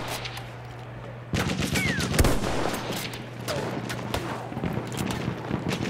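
Gunfire in the video game Battlefield 1: bursts of rapid shots and sharp cracks over a steady low game hum, fairly loud, with a bigger boom partway through.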